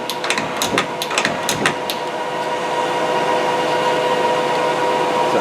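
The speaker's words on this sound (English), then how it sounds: "We'll do some turret indexes real quick." A 2006 Harrison Alpha 1400XS CNC lathe with Fanuc control indexes its turret with a quick series of sharp mechanical clicks and clunks, followed by a steady machine hum running at 500 RPM.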